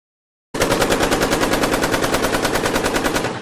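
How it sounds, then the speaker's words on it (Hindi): Rapid bursts of gunfire as a sound effect in a Hindi audio drama, coming in after a brief silence and continuing as a dense, loud, evenly pulsing volley, like automatic weapons firing without pause. "गोलियों के जबरदस्त धमाकों से हवा में ही मौत लील गई एक जाबाज जिंदगी को।"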